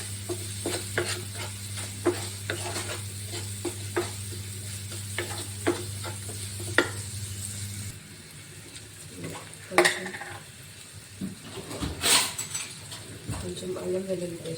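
Beans curry being stirred in a pan, with repeated close spoon scrapes and clinks over a sizzle and low hum for the first half, then quieter scattered clatter as a voice talks in the background.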